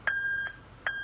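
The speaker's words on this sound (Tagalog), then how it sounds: "Yan yung original sa Japan na back up alarm or yung talking horn." A Denso two-tone backup alarm horn, Japan surplus, gives two short electronic beeps in a row, each a bright tone with a quick pitch step at its start, close and fairly clear.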